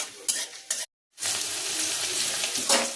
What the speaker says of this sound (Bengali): রসুনটা একটু ভাজা ভাজা হলে পেঁয়াজটা দিয়ে দেবো।